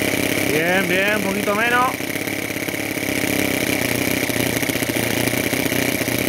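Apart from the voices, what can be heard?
homemade 7cc two-cylinder Otto mini engine idling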